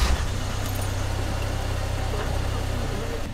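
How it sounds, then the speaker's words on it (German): A camper van's car engine starts with a brief burst, then settles into a steady, low idling hum. "Und wir werden jetzt einmal das Auto starten."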